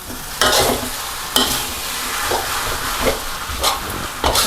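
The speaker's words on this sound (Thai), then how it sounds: "ใส่เห็ดหูหนูดำผักขึ้นช่ายและแครอทลงไปค่ะ" Wood ear mushroom, celery and carrot stir-fried in a hot pan, loud sizzling broken by repeated scraping stirs of a spatula at irregular intervals, close up.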